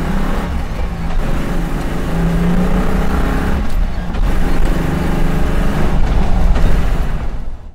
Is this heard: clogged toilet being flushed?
no